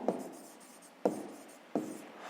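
Pen writing by hand on paper while solving a sixth-grade math exercise, soft scratchy strokes marked by three distinct taps as the pen touches down, close and quiet.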